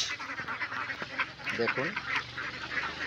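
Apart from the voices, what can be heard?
ducks quacking on a small duck farm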